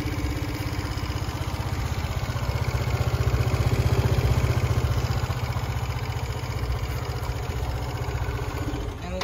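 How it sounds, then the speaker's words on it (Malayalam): A Vespa VXL 125 scooter's 125cc engine idles, a steady, close, throbbing putter with a fast regular pulse that swells a little midway and holds until the end. "അത് നമുക്ക് വെസ്പ VXL 125 ഒന്ന് സ്റ്റാർട്ട് ചെയ്ത് നോക്കാം."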